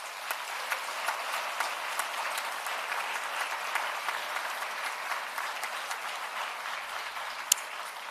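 An audience at an arbitration moot opening ceremony gives a steady round of applause for Maricel Somerville, with dense, even clapping that carries on throughout.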